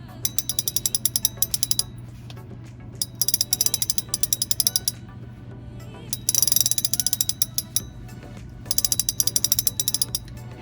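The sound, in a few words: Daiwa Luvias 2024 spinning reel drag clicking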